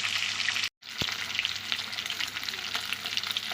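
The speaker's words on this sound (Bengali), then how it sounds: "তেল গরম হয়ে গেছে এখন দিচ্ছি মাছগুলো" Fish sizzles loudly and steadily in hot oil, broken by a brief moment of silence near the start.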